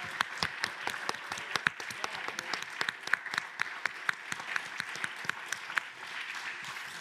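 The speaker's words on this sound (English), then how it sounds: "maybe we could just have a round of applause for our translators" Brisk applause from a conference audience thanking translators, many sharp claps layered densely for several seconds, then thinning toward the end, with no voices over it.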